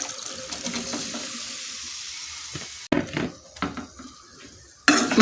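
Mango pieces are tipped into a pan of roasted pickle spice mix, with scraping, clattering metal-on-pan hits and sharp utensil knocks in bursts, fairly close and without talk.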